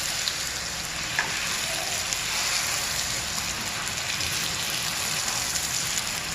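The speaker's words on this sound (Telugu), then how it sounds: "ఇంకో పూరి వేసి చూపిస్తాను ఫ్రెండ్స్. చాలా మంచిగా పొంగిద్ది మసాలా రవ్వ పూరి." Masala rava poori frying in hot oil, a steady close hiss and bubbling sizzle with faint crackles throughout, no voices.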